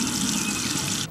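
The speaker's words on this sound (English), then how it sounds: "the bathroom faucet sometimes decides to turn on by itself" A bathroom faucet at an inn gushes water steadily into the sink, close and fairly loud, then cuts off abruptly near the end.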